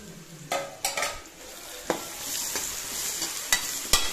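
Rice being stirred into a mango pulihora tempering in a pan, a steady sizzle under repeated spoon scrapes and sharp metallic taps at irregular intervals.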